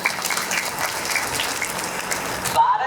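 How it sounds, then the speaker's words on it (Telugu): Audience at a spiritual discourse event in Sadasivpet clapping, dense continuous applause from many hands that fills the clip and then stops abruptly near the end. "ఒకసారి మీకు మీరే చప్పట్లు కొట్టుకోవాలి"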